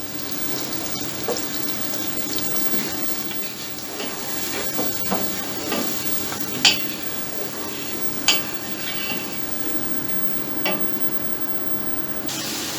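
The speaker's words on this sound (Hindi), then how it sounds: "गोश्त की भुनाई के दौरान हमें चम्मच बड़ी एहतियात से चलाना है" Mutton roasting in a pot with a spoon stirring it during yakhni pulao cooking: a steady soft sizzle and hiss with occasional scraping clicks and taps of the spoon against the pot, fairly quiet and close.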